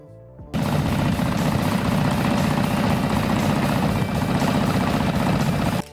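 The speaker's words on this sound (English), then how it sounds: "That distinctive throaty rumble when Captain America fires up, heavily modified in post-production." A heavily modified Harley-Davidson Panhead chopper engine from 1969 fires up and settles into a loud, steady, throaty rumble that holds unbroken and close.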